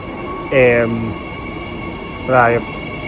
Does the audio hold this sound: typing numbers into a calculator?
no